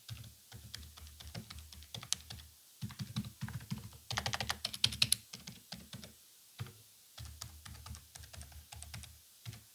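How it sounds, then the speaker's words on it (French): Typing on a membrane keyboard, a dense run of soft, muffled keystrokes in quick irregular bursts with brief pauses, close and fairly quiet, with a louder flurry of clacks in the middle. "Enfin, testons un clavier à membrane."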